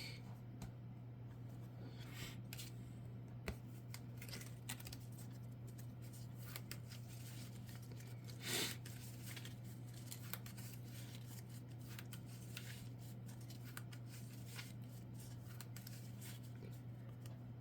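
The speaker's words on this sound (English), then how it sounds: "This is the only Colossus card, so I'll shuffle that back into my deck." Marvel Champions cards being shuffled back into a deck, a soft, steady papery riffling and sliding that runs throughout at low level, with a few sharper flicks and taps.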